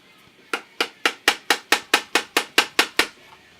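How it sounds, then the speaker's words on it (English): A punch is tapped with a hammer while taking apart a Russian SKS rifle: about eleven sharp metallic strikes in a quick, even rhythm, loud and close. "Hammer that up just a little bit."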